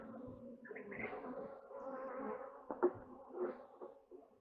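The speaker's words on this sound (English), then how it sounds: "A couple of bees here." Honeybees buzz at close range during a spring hive inspection, a steady, soft drone with a few louder bumps and knocks from handling the frames, and no talking over it.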